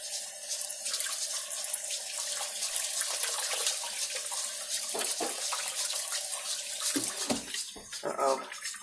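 Tap water runs steadily into a sink while cilantro is washed, a close, bright rushing stream with a few splashes and interruptions near the end as the flow is disturbed.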